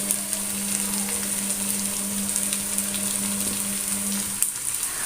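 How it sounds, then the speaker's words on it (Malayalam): Small pieces of cabbage sauté in a pan for an egg omelette, giving a steady, close, even sizzle with faint crackles and a low constant hum beneath, with no talking. "എന്നിട്ട് അത് നമുക്കൊന്ന് വാട്ടിയെടുക്കാം ആദ്യം ചെറിയ കഷ്ണം ക്യാബേജ് ഇട്ട് കൊടുക്കുന്നുണ്ട്"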